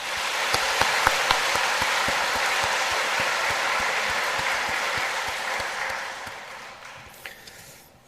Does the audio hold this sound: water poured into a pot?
no